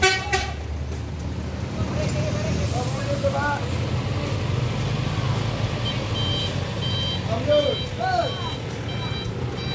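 A truck backs up on a roadside by a low bridge, its reversing alarm sounding in regular high beeps amid rumbling traffic noise and occasional voices.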